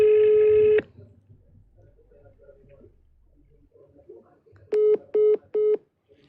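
Phone call tones while trying to reach someone: one long, steady electronic tone, a pause with faint background, then three short, evenly spaced beeps, close and clear.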